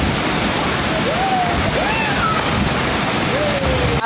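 A waterfall at Calbayog, Samar pours loudly and steadily, with a few brief high bird-like whistles rising above the constant rush of water.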